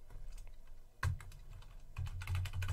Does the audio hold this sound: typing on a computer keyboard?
yes